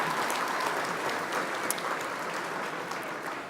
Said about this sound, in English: we'll give them a round of applause, our students